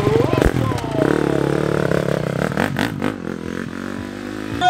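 An FMF Factory Racing KTM off-road racing motorcycle at the start of a GNCC cross-country race, its engine revving with rising and falling pitch, close and loud under an announcer's talk.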